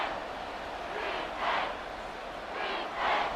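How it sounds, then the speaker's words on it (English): Stadium crowd roaring in a Madden 25 American football game simulation, a steady wash of cheering that swells in two louder surges, with no talk over it. "this crowd doing their best to make a lot of racket"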